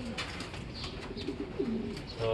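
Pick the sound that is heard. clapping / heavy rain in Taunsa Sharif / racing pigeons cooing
racing pigeons cooing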